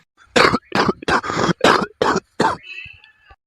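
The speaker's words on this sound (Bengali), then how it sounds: "বাবার কাশিটা আবার বাড়ছে দিন দিন" A cartoon father coughs in a quick series of about seven harsh, close coughs, heard on their own with no talk.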